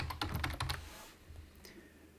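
Several quick keystrokes tap on a computer keyboard in a short burst, close and fairly soft, followed by a near-silent pause and one faint final tap.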